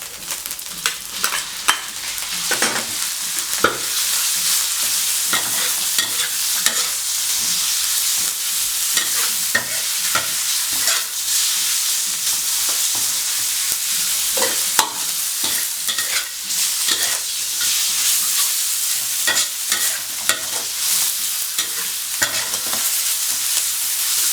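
Pork stir-fries in a hot pan with shrimp paste, shallots, garlic and pepper, giving a loud, steady sizzle throughout, broken by frequent scraping and clinking of a utensil against the pan.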